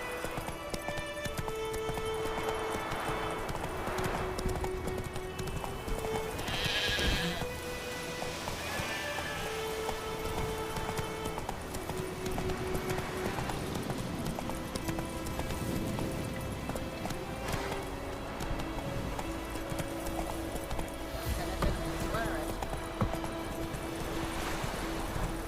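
Roach, a horse in the video game The Witcher 3, gallops with steady clip-clop hooves under a bed of game music, with a brief shout or call partway through.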